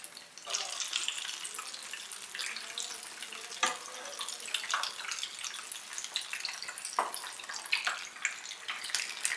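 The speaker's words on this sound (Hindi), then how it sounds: "मीडियम आंच पे इनको फ्राई करेंगे।" Mac and cheese sticks fry in hot oil over medium heat, giving a steady, quiet sizzling hiss dotted with small crackles and pops throughout, with no voices.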